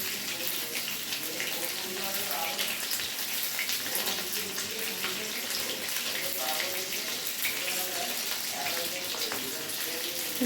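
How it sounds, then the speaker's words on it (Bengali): Fish pieces frying in a pan for chili fish, giving a steady, dense hiss that runs the whole time without a break, with faint tonal sounds drifting underneath. "আর একটু লাল লাল করে এটা ভেজে নিতে হবে।"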